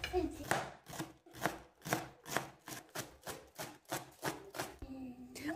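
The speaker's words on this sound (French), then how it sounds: "maintenant je les coupe." Green onions being chopped with a knife on a board, about a dozen evenly spaced crisp thuds close up, with no talking.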